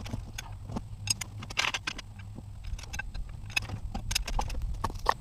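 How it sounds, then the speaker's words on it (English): A jack raising the front end of a Farmall Cub tractor, giving a steady run of sharp metallic clicks and clanks over a low mechanical hum, fairly close and moderately loud. "The first thing we'll do is just jack up the front and spin this tire"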